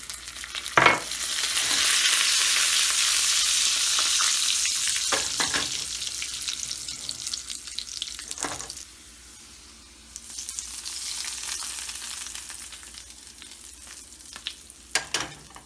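Garlic and cumin sizzle steadily in about two tablespoons of oil in a pan, with occasional stirring clinks and scrapes; the frying quiets briefly midway, then picks up again.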